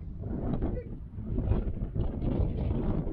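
Steady wind buffeting the microphone outdoors on South Australia's Limestone Coast, a low continuous roar with gusts that swell and dip.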